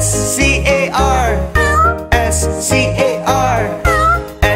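A cat meows repeatedly in a children's nursery song, a sung meow imitating the cat, voiced in rhythmic, bright, melodic phrases over steady musical accompaniment.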